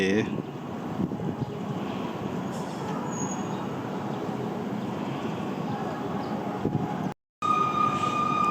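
A steam locomotive train in Thailand rumbles steadily at a distance, a broad continuous roar with faint tonal hums, briefly cutting out near the end before resuming.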